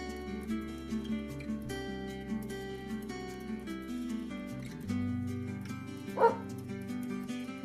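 A dog barks in the PlayHome video game, several short yips and bow-wows over looping background game music, with no one talking.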